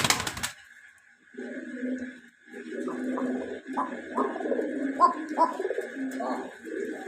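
Fancy pigeons coo in a series of low, throaty rolling calls, close and clear, with a steady hum in the background.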